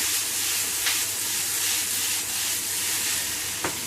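Vegetables fry in a pan, giving a steady, close sizzle and hiss throughout, with a couple of brief stirring clicks and no talking.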